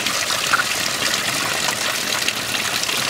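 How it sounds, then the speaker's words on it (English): A small koi pond outdoors, water trickling and splashing in a steady, continuous wash that stays fairly loud and close with no talk over it. "koi pond going on"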